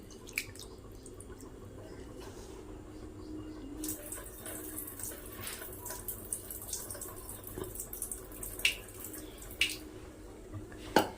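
Water splashes and trickles in a pot as rice for mutton biryani is rinsed, with irregular drips and clinks over a steady running-water hiss.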